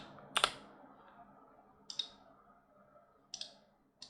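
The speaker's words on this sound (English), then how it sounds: "press E as in Edward, hold J as in Jacob, click, click, click, click." Sharp computer mouse clicks during 3D modeling work, four separate crisp clicks spaced roughly a second or more apart, close and alone in a quiet room.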